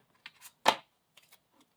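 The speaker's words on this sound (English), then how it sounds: "One more shuffle and we'll cut the deck." A deck of cards shuffled by hand, a few short, sparse snaps and one louder riffle burst, close and quiet against a silent background.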